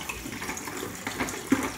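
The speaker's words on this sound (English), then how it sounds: "just rinse them out" Tap water running while baby bottles are rinsed out at home, a steady moderate splashing wash with a brief louder gush near the end.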